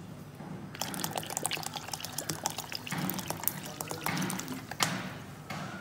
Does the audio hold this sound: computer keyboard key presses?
no